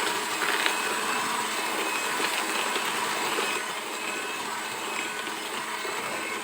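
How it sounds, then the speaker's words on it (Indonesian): Electric mixer running at its lowest speed, beating egg yolks and sugar for a pandan Bika Ambon, a steady close whirring drone with a faint rattle, no voices. "Kita mixer aja, jangan lama ya. Kecepatan 1 aja."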